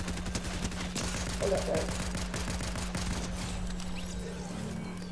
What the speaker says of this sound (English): let me just finish him off with the SMG